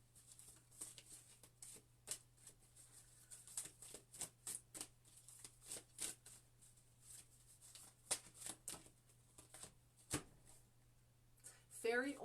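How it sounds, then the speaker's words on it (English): Tarot cards are shuffled close by in quick, irregular bursts of soft riffling flicks and taps, fairly quiet, over a low steady hum. "Trying to shuffle in front of you guys"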